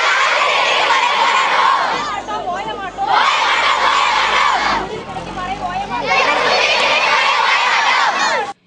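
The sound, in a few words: about 1000 school students protesting and shouting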